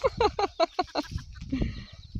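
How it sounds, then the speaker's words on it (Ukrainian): A rooster crows in a series of short, bright calls, fairly close, followed by lower clucking and farmyard bird noises. "Десь півень покликав"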